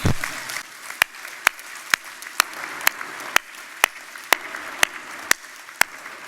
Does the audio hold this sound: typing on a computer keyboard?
no